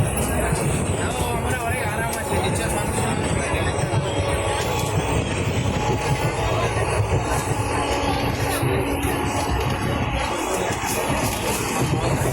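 A crowded passenger train bound for Howrah rolls along with a loud, steady rumble and constant crowd chatter, with people talking throughout the ride.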